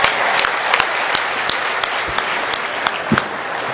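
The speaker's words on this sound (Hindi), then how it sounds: "एक बार तालियां और विष्णु जी के लिए बजा दे।" Audience applause at a Haryanvi comedy poetry gathering, a steady wash of many hands clapping throughout, with a few sharper individual claps standing out near the front.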